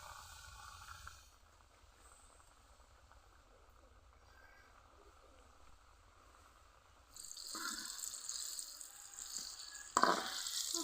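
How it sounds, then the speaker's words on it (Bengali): Chicken pieces deep frying in hot oil for crispy chicken fry, a steady close sizzle that grows louder and brighter toward the end, with a sharper burst of crackling near the last second. "খুব সুন্দর করে মুচমুচে ভাজা হচ্ছে।"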